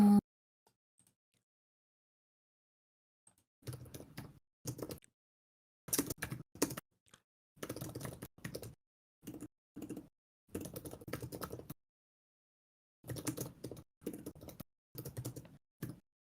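Quiet computer keyboard typing in bursts of rapid key clicks separated by pauses, fairly faint and close, with no talking.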